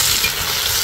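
Onions, ginger and garlic fry and sizzle in a pan, giving a steady, close hiss with light stirring and no voices.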